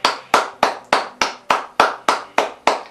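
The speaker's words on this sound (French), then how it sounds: "Oh, nous acclamons le Seigneur Jésus-Christ" Hands clapping in acclamation during a church deliverance service, ten sharp, evenly spaced claps in a steady beat, loud and close, with no talking.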